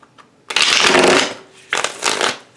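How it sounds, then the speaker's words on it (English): Tarot deck being shuffled by hand in two bursts, a long riffling rustle of stiff cards followed by a shorter second shuffle, close and crisp with no talking. "I will just shuffle the cards and see whatever the cards have to say"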